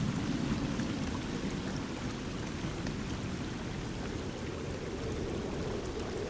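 Flowing water echoing through a cave in the survival game Sons of the Forest, a dense, even rushing wash with a reverberant low roar, continuous and unbroken.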